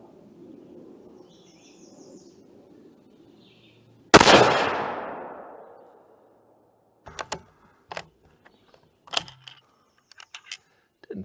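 A single sharp, loud rifle shot from a .270 WSM firing Winchester Deer Season ammunition cracks out of quiet outdoor ambience and decays over about two seconds, followed by faint clicks and handling noises.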